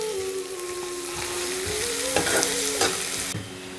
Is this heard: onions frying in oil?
yes